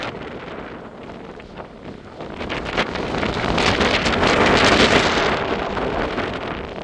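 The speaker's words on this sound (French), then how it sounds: "Les gars, on va prendre des rafales." Strong wind gusts roar during storm Herminia, buffeting the microphone in a swelling, rushing wash that builds to a peak midway and then eases slightly, loud and close throughout.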